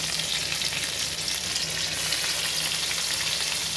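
Green chilies crackle and sizzle steadily in hot ghee, a loud, close, continuous frying hiss without a break.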